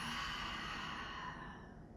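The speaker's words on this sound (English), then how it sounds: "Inhale through the nose. Exhale, let it go." A single soft, breathy exhale during a vinyasa yoga session, quiet and close, fading out gently.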